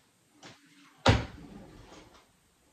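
A kitchen drawer or cupboard opens or closes near a counter, a soft scrape followed by a sharp wooden knock and a brief rattling slide, close by.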